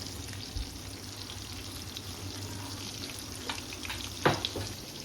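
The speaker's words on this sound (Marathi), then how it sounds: "एका साईडला आपला तवा फ्राय चालू आहे" Fish frying on a tawa gives a steady soft sizzle with low background rumble and a brief sharper crackle near the end, fairly close and without talk.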